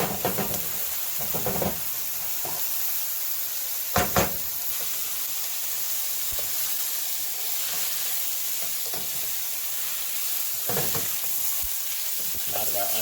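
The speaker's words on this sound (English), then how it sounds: "Throw that in there and toss that eggplant around." Eggplant tossed and stirred in a hot pan for a Thai vegan curry, giving a steady sizzling hiss over high heat with scattered scraping knocks as the pieces are moved around.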